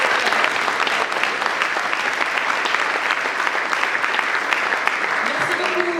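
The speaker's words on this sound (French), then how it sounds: "on peut applaudir le bébé de la..." Audience applause at a Breton bio-based building materials presentation during an eco-construction spring event, a dense, steady wash of clapping hands that holds evenly throughout without letting up.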